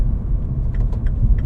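Turbocharged all-wheel-drive Mini Paceman engine pulling at full throttle, a steady low rumble from inside the car with faint higher whines, continuous and moderately loud.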